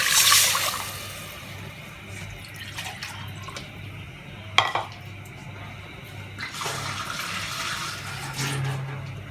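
Glasses of water tipped one after another into a beef yakhni pulao pot, giving short splashing pours with drips and a sharp splash midway, then another rushing pour near the end, with no speech.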